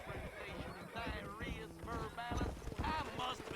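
Horse hooves clip-clop in the Western video game Red Dead Redemption, a steady rhythmic trot heard close over game music and ambience while someone talks throughout.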